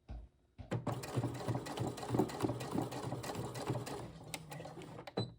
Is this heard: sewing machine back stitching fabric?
yes